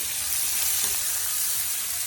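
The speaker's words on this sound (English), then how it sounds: "So if you want to fry the onions fast" White onions with cumin seeds fry in a pan with a steady, close, crackling sizzle that holds level throughout, with no speech.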